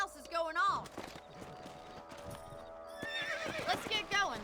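A horse in the Red Dead Redemption video game whinnies loudly twice, at the start and end, with steady clip-clop hooves in between.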